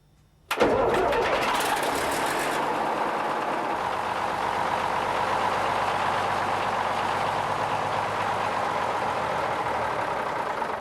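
A diesel railcar on the Vivarais heritage line cranks and its engine fires after fuel preheating. It rises suddenly from silence to a loud, steady idle rumble that stays close and continuous.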